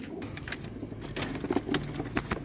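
Racing pigeons in a loft, soft cooing and light fluttering with scattered taps and shuffles, fairly close and moderately quiet.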